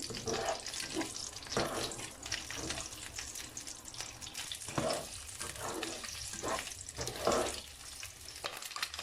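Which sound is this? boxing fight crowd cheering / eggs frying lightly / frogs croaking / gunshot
eggs frying lightly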